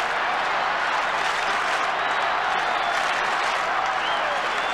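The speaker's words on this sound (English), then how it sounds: "The crowd really coming to life" A stadium crowd at a 1991 Australian football match between Adelaide Crows and West Coast Eagles roars and applauds steadily, a dense continuous wash of cheering at full volume throughout.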